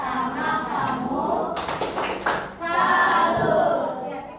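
Indonesian schoolchildren in a classroom perform a rhythmic clapping cheer, a steady patter of many small hands with brief chanted voices mixed in, fairly close and lively throughout.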